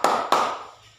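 A classroom group claps together in a rhythm routine, two sharp unified claps about a quarter second apart, loud and close with quick ringing decay.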